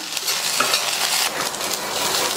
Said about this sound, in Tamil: அடுத்து இதில் நம்ம வறுத்து அரைச்ச அந்த பொடியை சேர்த்துட்டு நல்லா கலந்து கொடுத்துருங்க